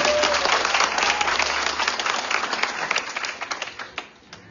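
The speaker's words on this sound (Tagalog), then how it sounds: "Isang malakas na palakpak sa Panginoon." A church congregation at an 18th anniversary service breaks into loud applause, dense clapping filling the room and then thinning into scattered claps as it fades out.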